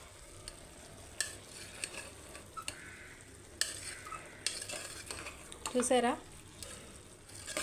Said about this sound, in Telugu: ఒక్కసారి నిదానంగా కలిపేసేసుకోండి.